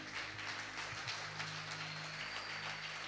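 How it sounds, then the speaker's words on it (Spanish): A church congregation applauds in a continuous, fairly soft wash of clapping, with a low hum running underneath. "ese aplauso es para el Señor"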